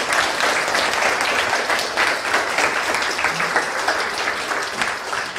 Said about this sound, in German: Die haben den Applaus auch auf jeden Fall verdient.